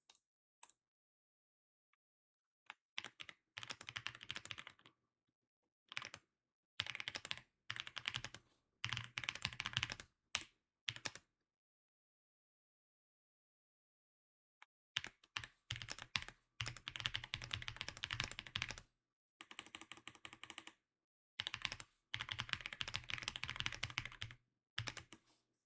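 Typing on a computer keyboard in irregular bursts of quick clicks separated by quiet pauses, close but soft.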